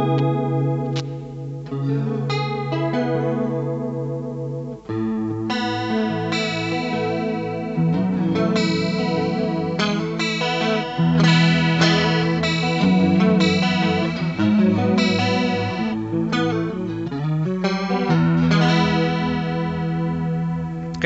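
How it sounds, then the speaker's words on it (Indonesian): Electric guitar through a Roland Cube 20 XL amplifier with its chorus effect engaged, a shimmering, wavering tone as chords and melodic lines ring out continuously at steady volume for about twenty seconds with no talking. "Sekarang coba kita chorusnya."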